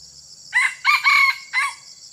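A Sumatran jungle fowl crows once, a short, clear call of three or four clipped syllables heard close against a faint steady background hum, with no talk.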